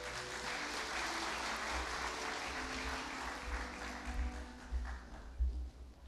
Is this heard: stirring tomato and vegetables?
no